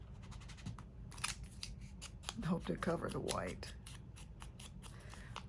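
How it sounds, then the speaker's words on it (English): Scissors snip through paper while making grungy craft tags, a series of crisp close cuts spread across the clip, with someone speaking quietly midway. "I was just cutting those with the scissors"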